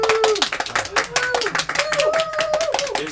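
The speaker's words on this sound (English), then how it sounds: "get a round of applause in the office for Jay and his fine directing" Office staff clapping, a quick run of close, sharp handclaps under overlapping talk and voices throughout.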